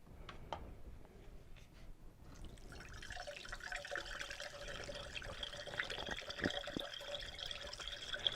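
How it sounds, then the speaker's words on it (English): Homemade ginger beer liquid trickles slowly into a strainer, giving a soft continuous pouring with small drips and splashes, faint and close, with no voices. "And just pour it slowly into your strainer."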